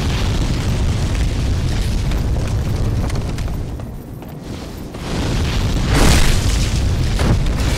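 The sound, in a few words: dragon fire blasts in Demon's Souls video game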